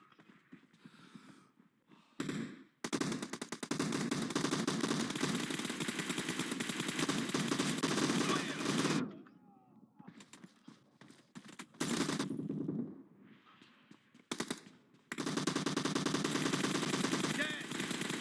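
Sustained automatic gunfire from the PUBG Mobile battle royale game, with dense loud bursts running for several seconds at a time, broken by short quieter gaps and a few isolated shots.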